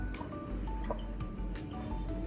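Beetroot juice dripping and trickling as beets are squeezed by hand, a close, soft run of wet drips and small splashes over a steady low background.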